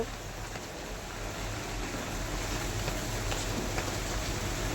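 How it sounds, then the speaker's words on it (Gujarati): Rain falls steadily outside, a continuous even hiss of drops on surfaces at moderate level with faint traffic underneath, no one talking. "બહાર વરસાદ ચાલુ છે, તમે જોઈ શકો છો."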